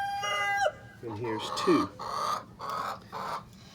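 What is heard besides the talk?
hen clucking in nesting box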